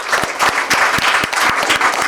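A crowd at a Korean history lecture applauds steadily, dense clapping that stays loud and even throughout.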